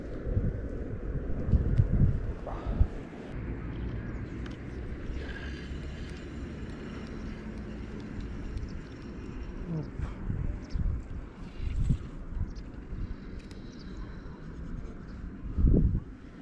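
Steady wind rumbles and buffets the microphone throughout on the bank of the Siret River, with gusts swelling now and then over faint outdoor noise.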